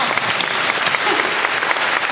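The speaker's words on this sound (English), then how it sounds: "A round of applause for Mark" Conference audience at Dreamforce applauding, a dense, steady wash of many hands clapping at close range throughout, with no break.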